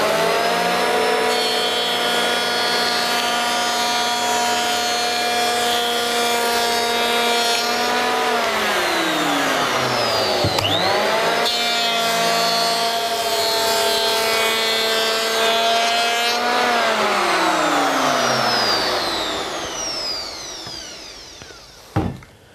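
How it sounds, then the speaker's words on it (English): A Bosch electric planer cutting timber clamped to a bench at maximum depth, a loud close high motor whine with a rough cutting roar, pitch dipping under load midway and then winding down at the end. "the most difficult part is holding the timber while you plane it"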